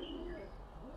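Racing pigeons inside a loft give a faint, brief low coo against a quiet background hum.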